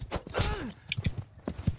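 Horse hooves clip-clopping in Mount and Blade II Bannerlord, a lame horse giving a few uneven, irregularly spaced thuds along with a short whinny, fairly faint and close.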